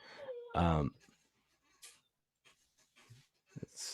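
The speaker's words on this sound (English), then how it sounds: "It sounds like a ghoul, but it is in fact my puppy." A puppy lets out an eerie, ghoul-like vocal noise, one loud strained cry followed by a few faint panting breaths and small snuffles in an otherwise quiet room.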